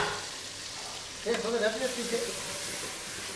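A dish sizzling in a pan as asafoetida is added for a home-style Gujarati dhokli: a low, steady sizzle, with a voice heard briefly in the middle.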